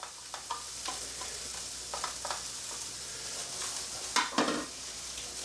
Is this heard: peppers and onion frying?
yes